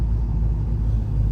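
A 1970 Plymouth GTX with a Hemi engine rumbles steadily while driving, a deep, loud, continuous low drone with no talk over it.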